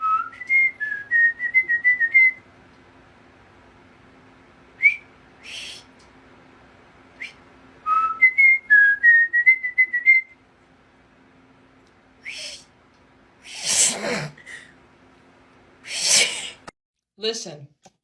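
A person whistles a short rising tune from Steamboat Willie in bright, wavering notes, twice, followed by a few breathy sniffs and gasps.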